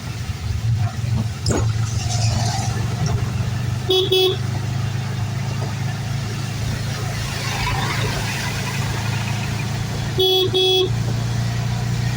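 A car horn gives two short double toots several seconds apart while driving in rain traffic, over a constant loud engine rumble and road noise.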